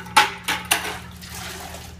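Grout sponge dipped and sloshed in a bucket of cold water, three short wet splashes in quick succession followed by faint dripping, close and alone.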